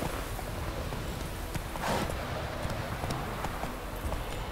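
Horse hooves clip-clop steadily under a dense, noisy game soundscape in The Witcher 3, with the rhythmic footfalls fairly close but partly buried in the background mix.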